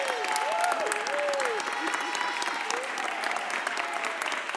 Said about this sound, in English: Give Candy a round of applause.